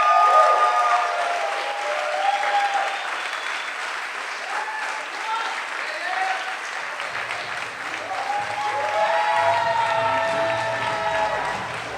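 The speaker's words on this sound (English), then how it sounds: "And a big applause to the Y-Side team crew" Sustained applause from a large audience at the Earthpreneurs 2018 event fills the whole stretch as a team crew is called on stage, steady and dense, with a few voices calling out and chattering underneath.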